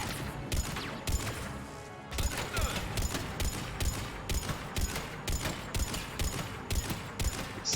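Mass Effect 3 gunfire aimed at a turret, rapid bursts of automatic shots in quick, even pulses, loud and close, with no talk over them.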